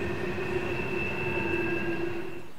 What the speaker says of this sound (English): another train could be heard assaulting the grade, as a pair of GE locomotives slowly pull their stack train to the center of the curve